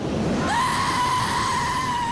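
A banshee wail from the 2009 Australian film Damned by Dawn: a rising, eerie high-pitched cry that swells and then holds as a long sustained tone over a rumbling background.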